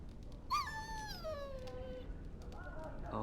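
A dog whimpers and whines in a Dragon Age game scene, one long drawn-out plaintive cry followed by a shorter whine, faint over a quiet ambient background.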